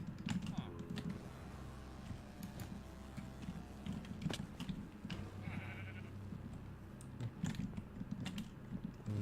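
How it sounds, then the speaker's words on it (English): Sheep bleating in the Minecraft video game, short repeated bleats over a busy layer of game sounds and clicking, moderately loud throughout. "may as well kill the sheep"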